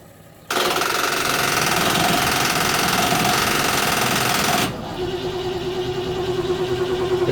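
A 1972 Range Rover with a loose, hanging exhaust cranks on its starter and fires up, a loud churning burst that settles after about four seconds into a rougher, steadier running engine close by.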